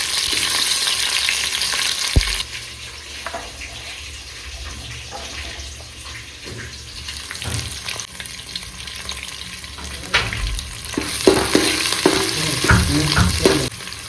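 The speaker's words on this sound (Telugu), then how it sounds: "సో ఇలా ఆనియన్స్ ఒక 5 మినిట్స్ అలా ఫ్రై చేసుకోవాలి, గోల్డెన్ బ్రౌన్ కలర్ వచ్చేంత వరకు." Onions fry in hot oil for chicken biryani with a loud, close sizzling hiss that drops after a sharp clatter, then builds again with stirring scrapes and bubbling, no voices.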